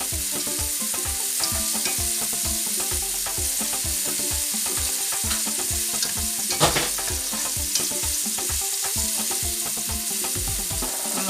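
Tripe sizzles and sweats in a pan for a Congolese tripe à la florentine, a steady close crackling fry with quick bubbling pops throughout and no speech.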